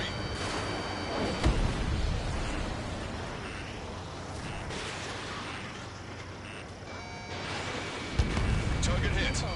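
Missile launch and impact in Ace Combat 7, a steady roar of jet and weapon noise with sharp blasts near the start and end, with radio voices talking over it.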